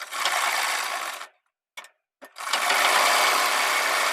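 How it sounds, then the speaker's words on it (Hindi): Sewing machine stitching lining fabric onto the collar of a 3-year-old boy's kurta, heard close up in a long steady run, then two short bursts after a pause, then another sustained run, with no talking. "हम यहाँ से सिलाई लगाएंगे और इसको कच्चा कर लेंगे।"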